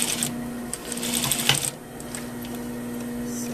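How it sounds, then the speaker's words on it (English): Sewing machine running steadily while stitching a double welt pocket, a close, continuous mechanical whir with a brief surge and a slight pause midway, no voices. "I'm going to lift the bottom part and I'm going to stitch again"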